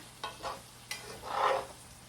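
Yellow squash fried in a pan gives soft scraping stirs and a brief swell of sizzling, close and moderately quiet, with no talking.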